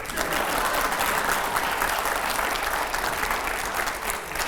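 Loud studio audience applause on a Hindi news debate show, a continuous dense roar of clapping holding steady from start to finish, with faint voices beneath.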